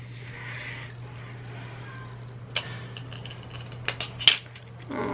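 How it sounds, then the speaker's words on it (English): Small scissors snip false eyelashes with a few quiet, sharp clicks, close and faint over a low background hum, with no talking. "I do need scissors actually because I need to trim them"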